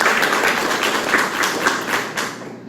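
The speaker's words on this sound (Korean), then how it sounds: "우리 하나님께 영광의 박수 올려드립시다" A church congregation claps together during a Sunday worship service, a dense, steady wash of many hands that stays loud throughout and begins to thin and fade near the end.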